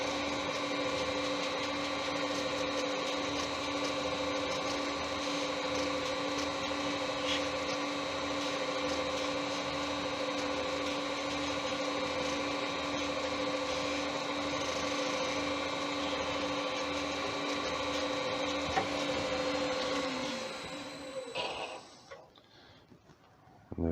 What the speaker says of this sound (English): I'm just buffing off the Hampshire Shane high gloss.